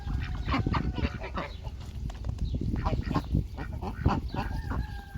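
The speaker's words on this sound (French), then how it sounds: "Après, il y a eu 2 grosses oies, des grosses, hein." Two large geese honking repeatedly at close range in an open-air setting in Dieppe, loud overlapping calls filling the whole stretch with other fowl noise mixed in.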